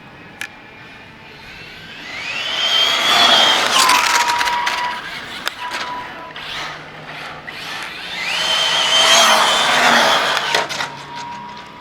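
Electric RC car running on Method RC Velociter belted tires, with two rising motor whines as it accelerates past, sustained high-pitched buzzing over background noise, and no talking.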